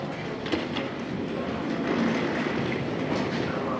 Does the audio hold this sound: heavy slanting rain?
no